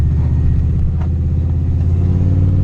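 A turbocharged Chevrolet Silverado pickup with a 4L80 transmission pulls away under load, its engine a loud, steady, deep rumble with rising harmonic tones heard from inside the cab.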